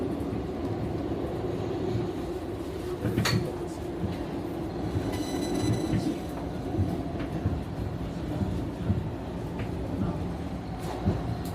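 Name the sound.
train arriving at station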